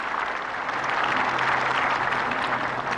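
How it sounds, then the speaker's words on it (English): Crowd applause at the 1975 Australian Open tennis match between John Newcombe and Jimmy Connors, a dense, steady clapping that holds at full strength for the whole stretch with no voices over it. "Both players getting a good hand from the crowd"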